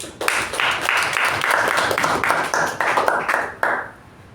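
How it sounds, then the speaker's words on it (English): A crowd at a Toastmasters meeting claps steadily for about three and a half seconds, a dense, even patter of many hands that stops abruptly and fades out. "So a big round of applause to Toastmaster Sachin."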